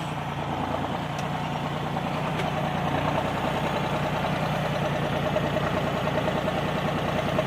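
A New Holland T4 60S tractor ploughs a muddy field, its engine droning steadily and loudly throughout with a low, even rumble and no voices.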